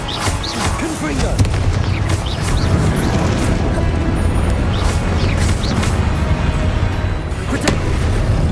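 Confringo spell explosions in the game Hogwarts Legacy burst amid a dense, loud battle din of booms and crashes, with shouted voices over the top.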